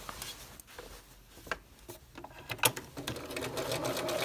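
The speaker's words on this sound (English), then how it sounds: "now sew that 1/2 inch all the way down to the bottom of the skirt" A sewing machine stitches a half-inch skirt seam, its needle patter running in short uneven bursts and then settling into a steady, fast whir, close and moderately loud, with no talk.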